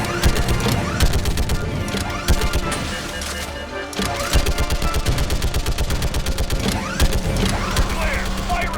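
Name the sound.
orbital strike and gunfire in the video game Mass Effect 3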